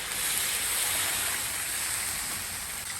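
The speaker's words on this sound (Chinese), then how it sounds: "加入水，" Water pours in a steady, broad rushing stream into a pot of free-range chicken being prepared for stewing. The flow is loud and continuous from start to finish, with no voices.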